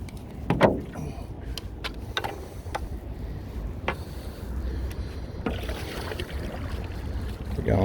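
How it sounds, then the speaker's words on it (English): A boat is paddled on open water in the afternoon, with sharp close splashes and paddle strokes at irregular intervals over a breezy, watery background. "We're going for an afternoon paddle."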